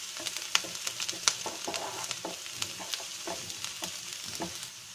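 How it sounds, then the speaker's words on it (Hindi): Onion, garlic and green chili frying in a pan for a cucumber sabzi, a steady close sizzle with frequent scraping and clinking of a spatula stirring the pieces. "अब हम इसमें लहसुन और हरी मिर्च को ऐड करके इसे भी भून लेंगे"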